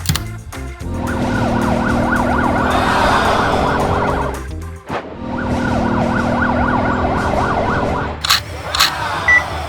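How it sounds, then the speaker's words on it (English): An ambulance siren wails close and loud, its rising and falling tone cycling rapidly, breaking off briefly and resuming before stopping with a few knocks. "Ambulance 24/7 is here."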